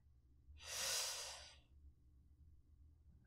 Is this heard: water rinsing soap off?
no